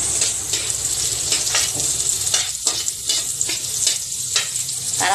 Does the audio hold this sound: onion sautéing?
yes